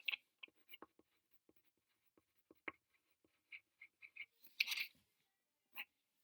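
A pen scratches across paper in short, irregular strokes, faint and close-up, with quiet pauses between marks in an otherwise silent room.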